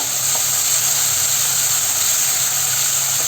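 Chopped tomatoes hit hot ginger and garlic in a pan for a tomato egg stir fry, giving a steady, close, unbroken sizzle and hiss with no talking.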